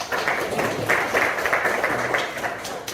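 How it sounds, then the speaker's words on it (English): Audience clapping at a community gathering in Tororo, a moderate wash of hand claps that swells and dips in small bursts, fairly close and sustained, with no speech over it. "Can we give a big hand clap?"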